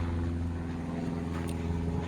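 An Eicher tractor engine idles steadily, a low throbbing rumble with a continuous mechanical drone, close and loud throughout with no voices.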